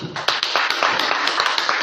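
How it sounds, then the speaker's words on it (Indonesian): A short burst of clapping from a small group of students in a classroom, quick irregular claps blending together for a couple of seconds. "beri tepuk tangan dulu."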